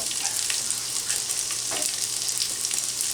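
Asparagus sizzles and fries in a pan, a steady close crackle with no talking.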